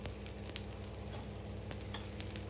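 Steady, continuous sizzle of roti frying in oil on a pan, close and fairly loud with faint scattered ticks and stirring, no voices.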